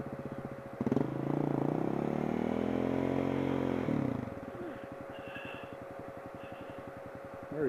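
A motorcycle engine revs on a trail at Gorges State Park, a rising and falling rev held for about three seconds before it settles back to a lumpy idle, heard at moderate distance.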